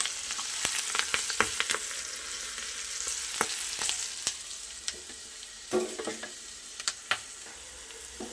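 Curry leaves and sliced chilli crackle and sizzle in hot oil as a tempering for masoor dal, a steady fizzing broken by sharp pops and spits, close and without talk.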